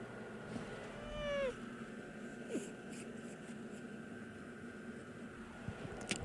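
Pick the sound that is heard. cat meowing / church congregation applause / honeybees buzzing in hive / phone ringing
cat meowing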